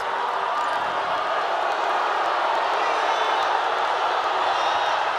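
A steady, loud wash of arena crowd noise fills a PBA Philippine Cup semifinal basketball game between Ginebra and San Miguel during a free throw, a constant roar with no distinct claps or cheers standing out.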